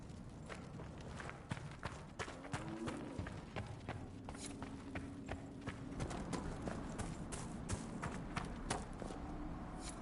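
Horse hooves clip-clop steadily in Dragon Age Inquisition, the clatter of a walking mount on hard ground repeating through the whole stretch over a dense, busy game ambience, with a faint low murmur underneath.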